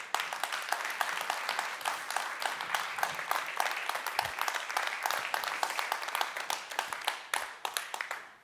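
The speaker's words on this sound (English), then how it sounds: "Ladies and gentlemen, can I have a big round of applause indeed for the" A large audience gives a sustained round of applause for a dance ensemble at a centennial event, with dense, steady clapping that continues for several seconds and thins out at the end.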